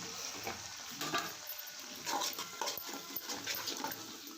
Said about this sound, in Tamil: கறிவேப்பிலை நல்லா பொரியட்டுங்க